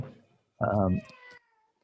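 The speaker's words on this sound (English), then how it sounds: "got a couple cats in the background" A cat lets out one loud, drawn-out meow close by, followed by a fainter trailing cry, with brief speech just before it.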